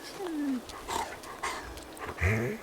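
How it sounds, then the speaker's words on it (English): Rosie, a dog in the video game The Walking Dead: The Final Season, whimpers and lets out short rising whines and yips mixed with faint growling, close and fairly loud in a brief burst of several calls. "The dog wants to eat it."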